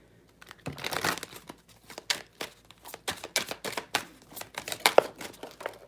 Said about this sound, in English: I'm gonna pull from the Metatron Oracle cards.